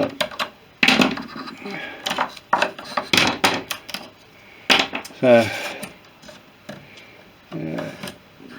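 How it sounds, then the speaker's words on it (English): Clamps are pulled off a cured fiberglass top wing of a Fisher Youngster, making scattered sharp clacks and knocks at close range, with rubbing and handling sounds between them. "so you can take the clamps off"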